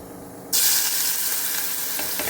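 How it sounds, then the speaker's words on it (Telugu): Boiled raw banana pieces drop into a hot frying pan, setting off a sudden loud burst of sizzling that then settles into a steady close hiss with light stirring. "ఇప్పుడు దీంట్లో మనం ఉడకబెట్టి ఉంచుకున్న అరటికాయ ముక్కల్ని దీంట్లో వేసేద్దాం."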